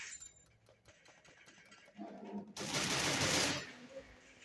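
Rapid bursts of gunfire in the video game Free Fire crackle in quick succession, followed by a loud, sustained blast of noise, then quieter rattling shots fading out.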